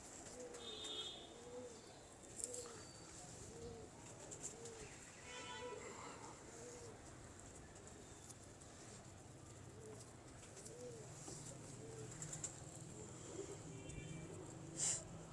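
Pigeons cooing softly in a loft, repeated low rhythmic coos at a moderate distance, with occasional faint background voices and ambient noise around them.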